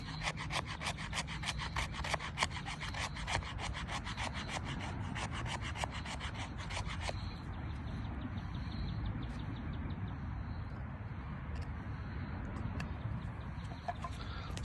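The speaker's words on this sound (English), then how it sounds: "See how it scrapes." Spine of a Casstrom SFK bushcraft knife scraping along a surface in a quick series of rhythmic rasping strokes, close and fairly quiet, then a softer continuous scraping with no talking.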